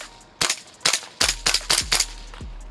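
Loud, sharp shots from a G&G MGCR 556 gas blowback airsoft rifle, fired at a target through a magnified scope: two single shots, then a quick string of five snappy cracks, each with a short mechanical clack, no talking.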